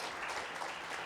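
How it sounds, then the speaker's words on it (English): Sustained crowd clapping at an awards ceremony in Phuket, Thailand, a brief, even burst of dense applause from many hands, close and loud. "a big round of applause, ladies and gentlemen"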